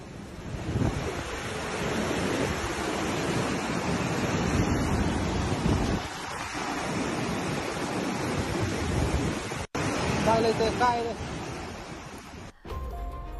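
Loud, continuous roar of overflowing rivers in flood mixed with wind buffeting, steady for most of the time and broken by two short cuts near the end.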